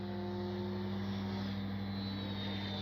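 An FMS Ranger 1220mm RC airplane flies over a field runway during a touch-and-go, its electric motor and propeller giving a steady, droning whine with a faint pitch shift, fairly distant and alone.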